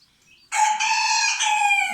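A rooster crows loudly and close among chickens, one sustained cock-a-doodle-doo call lasting over a second after a brief faint chirp.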